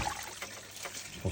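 Coolant trickles and splashes out of a Range Rover L322 TDV engine after the water pump is removed, a steady close watery dribble lasting briefly.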